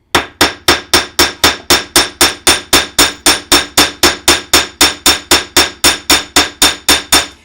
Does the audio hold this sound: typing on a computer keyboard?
no